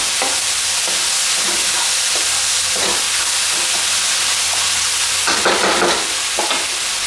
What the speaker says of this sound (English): Give this a good stir fry.